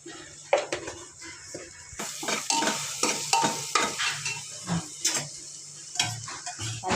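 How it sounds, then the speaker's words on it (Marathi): A spoon stirs a salted moong dal tempering in a hot pan, scraping and clattering in repeated strokes over a steady close sizzle, with no talking. "हलवून घे म्हणजे एकजीव होईल सगळं"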